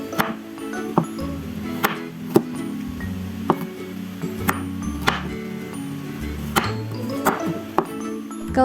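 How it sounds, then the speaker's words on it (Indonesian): A knife dices carrot and cucumber on a cutting board, with sharp, regular chops roughly once a second, close and clear over a faint background. "Buat wortel sama timunnya kita potong dadu dulu."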